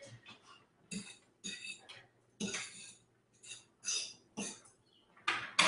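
A spoon scrapes and clinks against a pot of pasta in several separate bursts of metallic knocking, with pauses between them.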